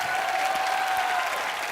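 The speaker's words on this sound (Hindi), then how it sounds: "जोरदार तालियों से स्वागत कीजिए" Steady studio audience applause on a Hindi comedy TV show, a brief continuous wash of clapping at moderate level.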